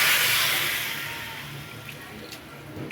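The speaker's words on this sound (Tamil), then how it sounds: "இப்போ தண்ணி நல்லா தெளிச்சுக்கிறேன்." Water is sprinkled into a pan of drumstick kootu cooking on the stove, a brief sizzling hiss that is loudest at first and then fades as the liquid settles.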